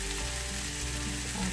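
Chorizo hash frying in a pan with green onion, a loud, dense, steady sizzle filling the whole short stretch with no voices.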